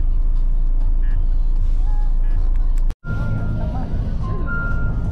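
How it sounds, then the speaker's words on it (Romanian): A Volvo FH16 750 hp truck pulls up with a steady loud diesel rumble, a brief cut in the middle, then faint intermittent reversing beeps over the engine noise. "A ajuns camionul, i-am făcut niște poze în mers."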